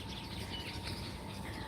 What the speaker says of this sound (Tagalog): Ingay ng mga ibon.